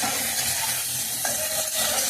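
Tomato frying with ground ginger and cumin in a pan, a dense steady sizzle with soft stirring scrapes, loud and close, no talk.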